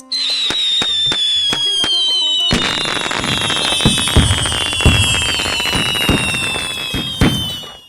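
Firecrackers go off at an Indian festival, a loud rapid series of sharp bangs and cracks layered over high whistling streaks that glide and fade.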